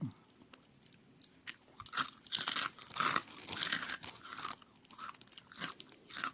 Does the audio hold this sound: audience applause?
no